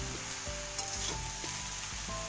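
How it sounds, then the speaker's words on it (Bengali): Pieces of bottle gourd hiss and sizzle in hot oil in a pan, with a steady frying crackle and a few soft knocks of stirring close by. "লাউগুলো ছেড়ে দিলাম।"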